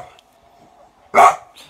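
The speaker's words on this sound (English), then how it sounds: "that's my dog teaching him how to say words" Ernie the bulldog lets out a single loud, short bark near the microphone after a quiet stretch, followed by a fainter trailing sound.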